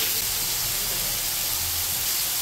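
Prawns frying in hot oil, a loud, steady hiss and sizzle filling the whole moment without any speech.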